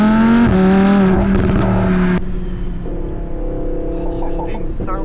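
An Audi R8 V10 fitted with a Capristo exhaust accelerates hard, its loud, high engine note rising through the gears before dropping to a lower, steadier drone.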